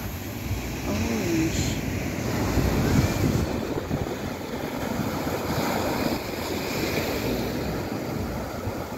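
Strong ocean waves crash steadily at San Juan beach in La Union, a loud continuous roar of surf with gusting wind buffeting the microphone.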